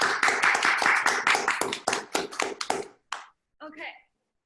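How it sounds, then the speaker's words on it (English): A university audience at a Stanford talk claps in a dense burst that thins into a few scattered claps and fades out, with faint voices at the end. "One more round of applause for our mastermind, David Llanos."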